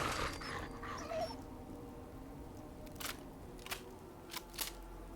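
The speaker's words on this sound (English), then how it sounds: "Hello? Dogs? Sounds like a dog." Dog whimpering in the video game Fallout 4: faint, brief whines over a low in-game ambient hum, punctuated by a few sharp crackling clicks.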